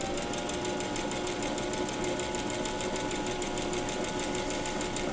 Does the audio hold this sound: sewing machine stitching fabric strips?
yes